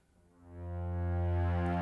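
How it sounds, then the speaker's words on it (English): A single sustained note from a Haken ContinuuMini synthesizer's playing surface swells in over half a second and holds, rich in harmonics and heard alone. "So I'm going to play a note on the surface of the ContinuuMini."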